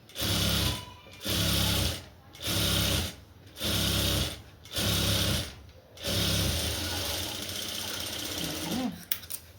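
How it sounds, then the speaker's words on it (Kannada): An electric sewing machine stitches a frill onto a sleeve, running in six short, steady whirring bursts with brief pauses between them, then one longer continuous run, close and loud, with no speech. "ಅರ್ಧ ಇಂಚು ಗ್ಯಾಪಿಗೆ ನಾನು ಸ್ಟಿಚ್ಚನ್ನು ಹಾಕ್ಕೊತೀನಿ"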